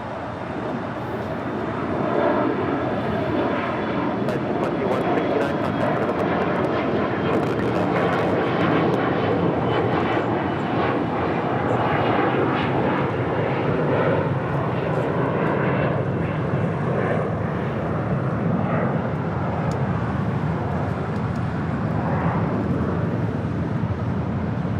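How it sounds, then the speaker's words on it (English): An Alaska Horizon aircraft in Washington State Cougars livery passes at LAX with a strong, sustained engine roar and throbbing tones, building early and holding loud for over twenty seconds before easing slightly. "That was Alaska Horizon in the Washington State Cougars livery."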